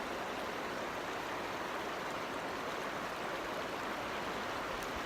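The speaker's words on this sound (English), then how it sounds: "listen to the sound of the river." A river flows past a rock in a steady, unbroken wash of rushing water, evenly loud and without pauses for the whole stretch, with no voices over it.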